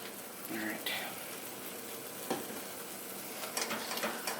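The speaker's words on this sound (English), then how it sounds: "So this has to boil for a good 2 minutes before we put it on top of the cake." A pot of bourbon coconut pecan icing for a pineapple Cajun cake simmers with a soft continuous sizzle and bubbling, broken by a few stirring and utensil clicks and brief snatches of voice.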